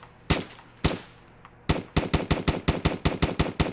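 An M4A1 rifle fires in a Fallout 4 mod: three spaced single shots, then a rapid string of about ten sharp, close, loud reports in quick rhythm, with no talk.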